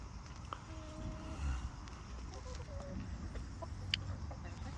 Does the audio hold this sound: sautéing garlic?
no